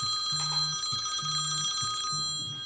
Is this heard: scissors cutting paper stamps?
no